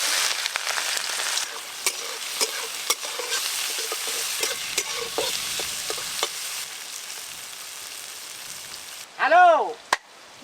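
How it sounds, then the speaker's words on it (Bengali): Prawns coated in salt and turmeric hiss and sizzle in hot mustard oil in a wok, a dense crackling fry with occasional stirring clicks that fades near the end, followed by a brief whistling tone. "তেল গরম হয়ে গেছে, এবার নুন হলুদ মাখানো চিংড়ি মাছগুলো দিয়ে দেবো।"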